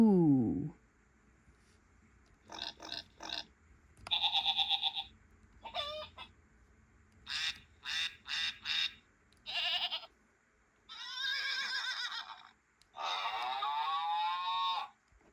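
Farm animal voices from a children's picture book about a little blue truck, heard as a string of separate calls including moos, bleats and clucks. Each comes alone and close, spaced through the passage with short gaps between.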